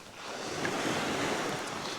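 Ocean surf rolls onto a golden beach on Scotland's north coast, a steady, loud broadband wash with some wind buffeting the microphone and no voices.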